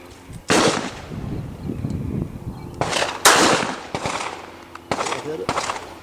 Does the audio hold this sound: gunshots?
yes